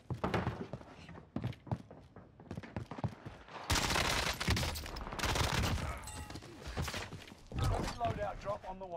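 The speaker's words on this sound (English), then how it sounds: "I hear a lot of gunshots back that way." Gunfire in the Warzone video game on Rebirth Island, bursts of shots and automatic fire rattling in dense clusters, moderately loud, with talk at the start and later.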